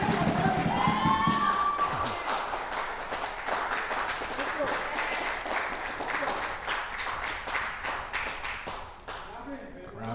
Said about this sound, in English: Crowd's getting louder and louder.